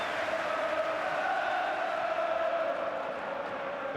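Crowd at Anfield stadium during a Liverpool v Nottingham Forest match, a dense, steady roar of applause and cheering that fills the whole stretch without a break.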